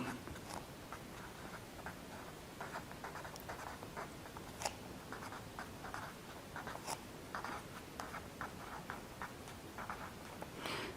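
Pen or marker writing notes during an anatomy lecture on the abdominal aorta, a steady run of small scratchy strokes and ticks heard alone at close range, fairly quiet throughout.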